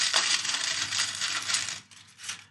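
A piece of tin foil is crinkled and rustled close by, producing a dense, bright, crackling texture for about two seconds that then thins out into softer scattered crinkles.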